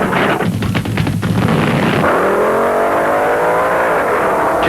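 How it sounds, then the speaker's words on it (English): Drag racing cars, a Dodge Challenger against a Pontiac Firebird at a 1972 drag meet, roar loudly at close range; rough crackling engine bursts give way to a rising, sustained high-revving howl as they launch. "Then it was Gene Snow's rambunctious Dodge Challenger to go against Gabriel and Wagner's Long Beach"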